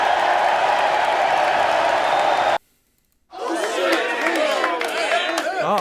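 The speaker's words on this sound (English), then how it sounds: "We gotta have the crowd cheer for you when you catch a fish." A video-game crowd cheer sound effect for catching a fish plays as a loud roaring crowd, cuts to a brief silence, then returns as a busier burst of cheering and chatter.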